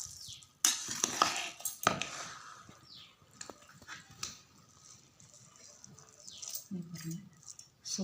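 Lentil rice (paruppu sadham) gets mixed with coriander leaves in a pot, faint scraping and clinks of a spoon against metal in irregular strokes, soft and close with quiet gaps.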